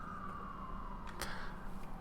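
An emergency vehicle siren outside, a falling wail at moderate distance over steady low rumble, with a brief sharp clatter midway.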